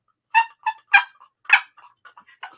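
A handheld turkey call imitates a hen turkey clucking, giving a quick series of sharp, close, nasal clucks and yelps with short gaps between them, heard on their own.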